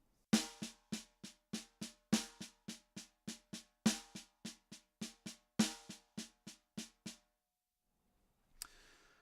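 Snare drum rudiment exercise played with no left-hand accent, short sharp strokes in steady groups of about four with a louder stroke leading each group, close and dry with no voices, ending in a brief soft noise.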